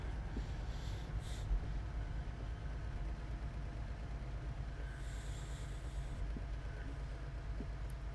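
Locomotive running in Train Sim World on the Oakville Subdivision, a continuous low engine drone with steady rumble and faint higher hiss, unbroken and even throughout.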